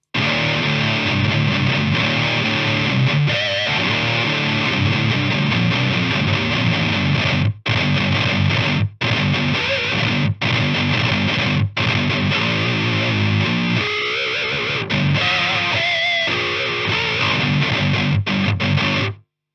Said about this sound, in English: let me turn off the Fortin 33 and we can hear just what the amp distortion sounds like